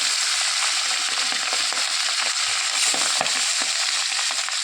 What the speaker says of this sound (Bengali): এখন মাছগুলো এক এক করে ছাড়বো। ট্যাংরা মাছ খুব ফাটে